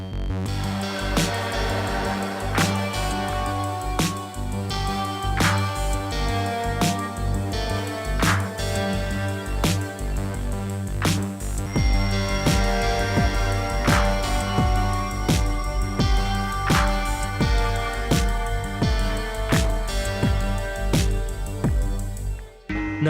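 A Eurorack modular synthesizer patch plays a steady sequenced drum beat with punchy kicks and sharp hits, layered under a rippling arpeggio and a sustained pad, continuous and full throughout without any talking.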